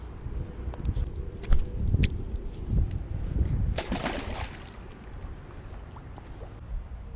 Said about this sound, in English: So the wind picked up a little bit.